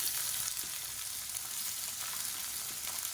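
Small onions, added whole for sambar, frying in hot oil with a dense, even sizzle that hisses steadily and close by, with no voices over it.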